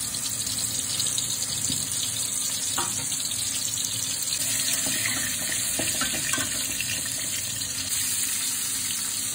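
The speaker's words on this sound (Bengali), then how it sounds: "এবার কড়াইতে তেল দিয়ে, তেলটা একটু গরম হলে পটলগুলো এভাবে ভাজতে হবে।" Pointed gourd slices fry in hot oil in a wok, making a continuous hissing sizzle that stays even throughout, with a few faint clinks of handling and no voices.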